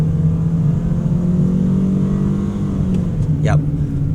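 The engine of a Toyota Alphard AH40 MPV, with no electric assist, drones loudly at high revs around 5000–5500 rpm with a steady, strained hum that holds throughout. A voice speaks briefly near the end.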